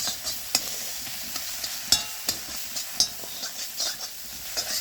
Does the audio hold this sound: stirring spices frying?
yes